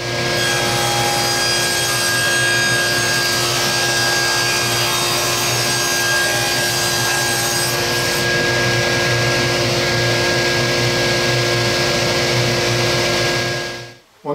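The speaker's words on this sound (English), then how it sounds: "we need to rip some of that half inch stock into pieces that is 1 15/16 of an inch wide" Saw ripping half-inch wood stock into strips about two inches wide, a steady continuous cutting drone with rough rasping texture that runs close and loud for about fourteen seconds before stopping abruptly.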